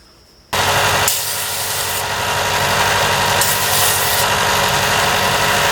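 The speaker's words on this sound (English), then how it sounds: "This is my glue side, so I'm going to sand it flat first of all." Sanding flattens the glue side of a wooden upper-bout top brace at the neck block, a loud steady abrasive rush that starts abruptly after a short quiet moment and runs continuously close by.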